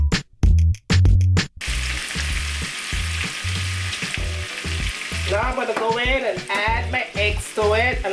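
Garlic frying in butter and oil sizzles steadily in a pan, with loud clatters of a utensil against the pan at the start, then continuous frying as a person talks over it.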